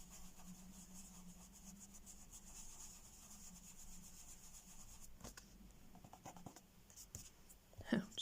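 Colored pencil shades on paper in an adult coloring book of flowers, with faint, steady scratchy strokes close to the microphone and a few louder rubbing scrapes near the end, no talk.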